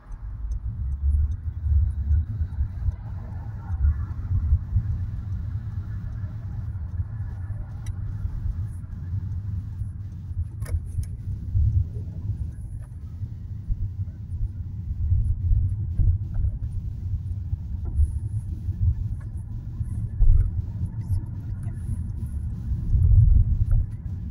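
A car being parked gives off a steady, low engine rumble heard from inside the vehicle, with a few small clicks and ticks now and then and no talking.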